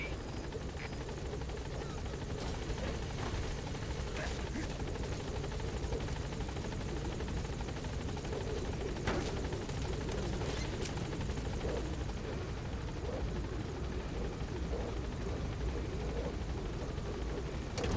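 Pequod, the support helicopter in Metal Gear Solid V, drones steadily with a loud, continuous rotor and engine roar that holds unbroken throughout, with no talk over it.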